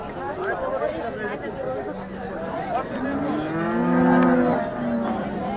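A cow moos repeatedly at a busy cattle market in Sangola, with long, drawn-out calls rising over steady crowd chatter and people talking nearby.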